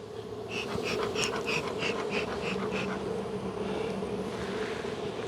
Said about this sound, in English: you probably hear that the bees don't like it